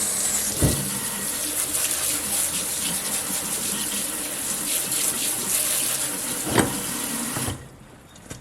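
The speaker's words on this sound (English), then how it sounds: "What you want to do is carefully rinse off all that lime." Tap water runs steadily into a sink as lime is rinsed off pickles, a continuous close gush with a couple of sharper splashes before the flow cuts off near the end.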